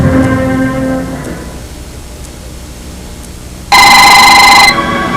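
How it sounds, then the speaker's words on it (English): A telephone rings at a model-aircraft flying field, a loud electronic trill bursting in for about a second after fainter tonal ringing fades out, then a quieter tail. "the phone rings"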